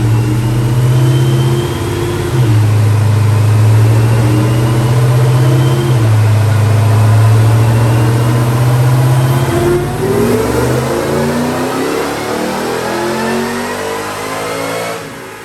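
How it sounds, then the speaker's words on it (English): A supercharged 2014 Ford Raptor pickup with a 6.2L V8, Whipple stage 2 blower and cams, screams through a dyno pull, engine note rising steadily in pitch and loud throughout before easing off near the end. "Check out this dyno pull."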